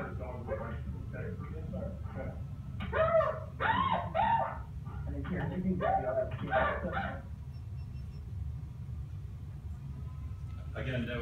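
During a police arrest, a dog nearby gives a run of barks and whimpering yips, with people talking over and between the sounds.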